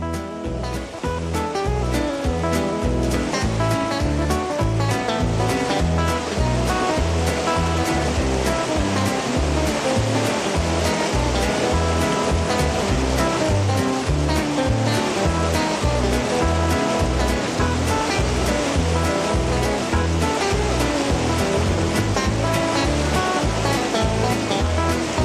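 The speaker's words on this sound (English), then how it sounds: "The rafts set out from Moline Lake and enter the outflow as they start this wild" Whitewater river rapids on a rafting route in the Rockies below Maligne Lake, a loud unbroken roar of churning, splashing water filling the whole stretch, with no talking.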